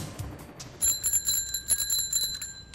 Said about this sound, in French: J'ai juste trouvé une sonnette.